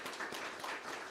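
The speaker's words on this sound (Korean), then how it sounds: "우리 박수 하겠습니다" Church congregation applauding to welcome new members during a service, a steady wash of hand clapping from many people, moderately quiet and continuous with no talk over it.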